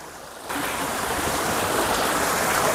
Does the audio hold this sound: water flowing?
yes